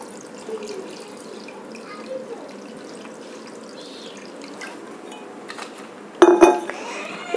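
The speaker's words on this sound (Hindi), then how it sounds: "अब मैं इसमें पानी डालता हूँ।" Water is poured into a container already holding stones for growing herbs indoors: quiet trickling and faint clinks of stone, then a sudden louder splash near the end, close by.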